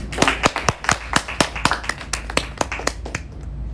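At an institute event at IIT Jammu, a small audience claps for a guest, sparse distinct hand claps in an irregular rhythm, close and fairly sharp, tapering off toward the end.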